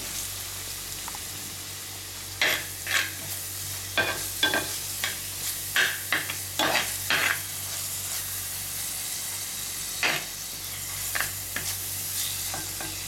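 Green chilli, ginger, shallots and curry leaves sautéing in a pan over low flame for a fish curry, a soft continuous sizzle with scattered spoon scrapes and taps, close by, no voices.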